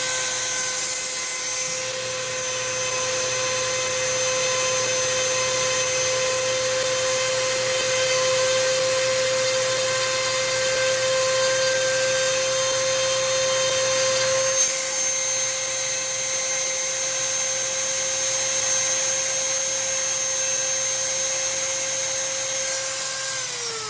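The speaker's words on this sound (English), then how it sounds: "the first thing we want to do is when we're making a key pin is we want to file the bevel" A hand file works the bevel on a lock key pin with a continuous, fairly loud rasping hiss under steady high ringing tones, close up with no talking.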